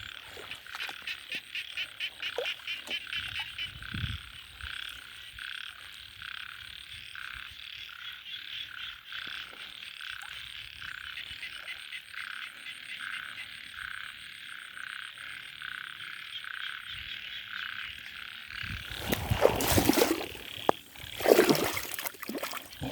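Frogs croak in a rapid, continuous chorus at moderate volume, joined near the end by a few louder splashing or knocking noises close by.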